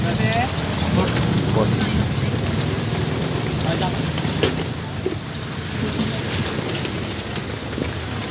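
Heavy rain pouring down steadily around an outdoor street food stall, a dense, loud hiss of drops hitting surfaces, with voices talking intermittently underneath.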